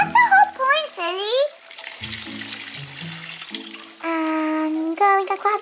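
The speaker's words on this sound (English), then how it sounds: "Careful, Gracie, that water bucket is filling up and it's gonna splash us in the face." Water from a filling bucket at a toy water play park pours and splashes in a steady hissing rush, framed by high-pitched, animated voices talking before and after it.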